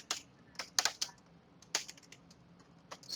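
Close computer keyboard typing while entering program code, irregular clusters of crisp key clicks with short pauses between bursts and no talk.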